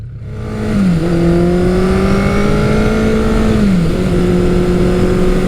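A motorcycle engine, a Kawasaki Eliminator 900 or Suzuki GS1100L, revs hard under acceleration, its loud droning pitch climbing, dipping at a gear change and climbing again, close by and with no voices.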